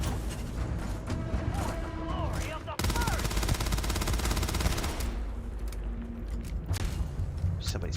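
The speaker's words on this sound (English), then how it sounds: "Somebody's pot-shotting me from behind. Fucking sniper, man." Sniper and other gunfire crack in Starfield, a fast series of sharp shots and bursts close by over game ambience while someone talks.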